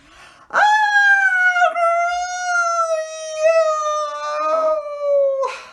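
A human voice imitates a long, wavering dingo howl, held steadily for several seconds with a slight wobble before breaking off.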